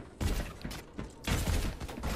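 Automatic turret fire in the Overwatch video game, a dense burst of rapid gunfire in two loud stretches with a brief lull between, near and continuous with no talk.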